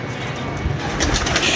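Pigeons coo softly in a pigeon-keeping setup, their calls half buried in a dense, steady hiss of background noise, with no talking.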